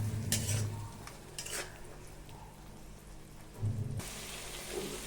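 A spoon stirs spice masala frying in oil in a pan for pav bhaji, making a quiet, sizzling backdrop broken by a few short scraping bursts at irregular intervals.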